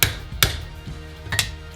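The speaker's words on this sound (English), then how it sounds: "and then give it a tap with a hammer" A hammer taps a stout screwdriver wedged into the split of a car's track rod, two or three sharp metallic knocks about a second apart, close and distinct.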